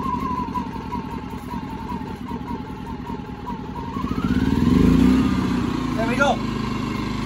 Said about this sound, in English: That's the Champion 2000 inverter.